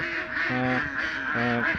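Ducks on a duck farm quack repeatedly in a noisy flock, two clear bursts of nasal quacking standing out over a dense, constant bed of bird chatter.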